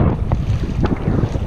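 Strong, gusty wind buffets the microphone on a fishing boat on a Florida trip, with low rumbling roar and brief flutters, close and loud, no talk.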